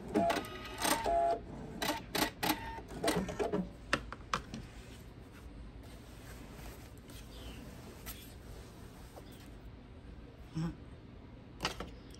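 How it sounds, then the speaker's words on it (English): A home sewing machine stitches quilt binding in a quick burst of sharp mechanical clicks and thumps, then falls quieter with faint whirring and a few soft clicks as the thread is cut, close and fairly faint overall. "I'm going to sew off diagonally and cut my thread"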